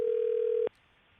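A steady telephone line tone on a call sounds alone for under a second, then cuts off abruptly into near silence.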